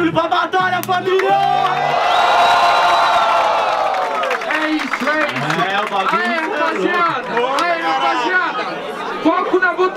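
Crowd at a Brazilian rap battle in Guarulhos, São Paulo, cheering, whooping and chattering loudly for over ten seconds, with a steady roar of many voices and scattered shouts.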